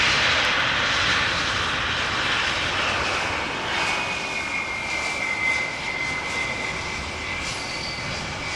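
Jet engines of an MNG Airlines cargo Airbus A321 at Amsterdam Schiphol roar loudly and steadily, with a broad rushing noise and a high engine whine that slowly eases.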